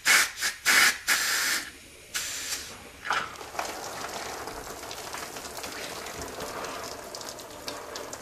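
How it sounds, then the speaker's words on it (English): Compressed air blown into a car engine bay during a DIY coolant flush: several loud, sharp hissing bursts in the first two seconds, then a steady softer hiss with spraying, rain-like patter continuing to the end. "Now I'll try blowing it with compressed air."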